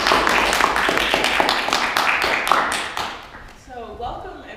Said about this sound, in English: let's give a warm round of applause to Jessica Parts